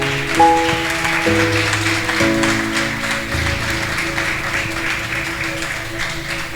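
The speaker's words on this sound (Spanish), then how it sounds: "¿Qué tal si le damos un fuerte aplauso al Señor?" A church congregation applauds, a diffuse wash of many hands clapping that runs steadily under sustained keyboard chords throughout.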